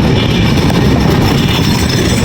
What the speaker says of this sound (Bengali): এটা আমাদের ট্রেন।